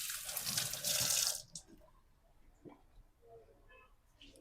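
Rice is tipped into boiling water in a pressure cooker, a loud rushing, hissing burst lasting over a second, followed by quieter bubbling and faint clinks.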